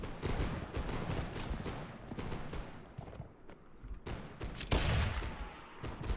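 Gunfire in the Mount & Blade: Fire and Sword video game, a ragged volley of sharp reports, mostly distant and muffled, with a louder crack near the end.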